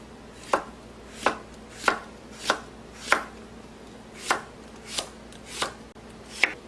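A knife chopping a halved cucumber on a cutting board: about ten crisp, evenly spaced chops, close and clear against a quiet kitchen background.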